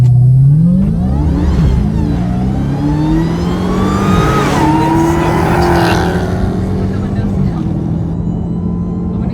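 A 2020 Dodge Hellcat fitted with a new intake drives past, its loud engine revving and climbing in pitch as it approaches, then a sustained roar that gradually fades as it moves away.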